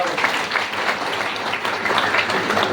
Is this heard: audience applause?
yes